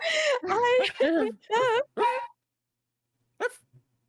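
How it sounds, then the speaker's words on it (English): Several short barks from a small dog come in quick succession, fairly close, followed by a pause and one or two more brief yips; no one talks over them. "What a perfect time for them to bark, though."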